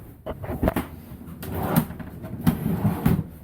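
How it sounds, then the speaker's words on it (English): A large, heavy yellow drawer is pushed into a cabinet under a cooktop in an ambulance being converted to an RV, giving a series of scraping slides and wooden knocks and bumps at close range. "got a second drawer in."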